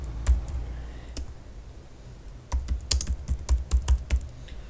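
Someone types a browser search on a computer keyboard, a few isolated key clicks first and then a quick close run of keystrokes, crisp and fairly loud against a quiet room.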